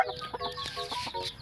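Backyard chickens cluck close by in steady, repeated short calls, with no talk over them.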